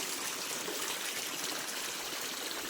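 Irrigation water from a pumped motor supply runs steadily into newly bunded field rows, a soft, even rushing trickle that holds without a break.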